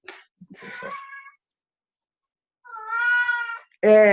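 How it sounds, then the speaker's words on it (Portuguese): A cat meows indoors in two drawn-out, wailing calls separated by a pause, loud and close, with a brief voiced sound at the very end. "eu tenho um gato aqui, Zelenias"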